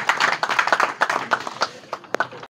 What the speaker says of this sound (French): Sous vos acclamations, messieurs, mesdames.